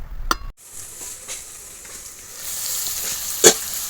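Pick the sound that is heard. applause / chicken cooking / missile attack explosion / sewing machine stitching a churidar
chicken cooking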